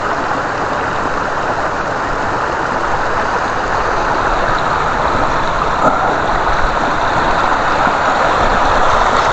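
A stream in Norway flowing steadily over granite stones, a dense, continuous broadband rush of water heard close and loud with no break and no speech.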